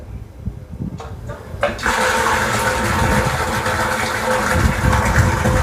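Water rushes into a tank fitted with an automatic water level controller, starting after a few soft knocks and then gushing loudly and steadily until the end.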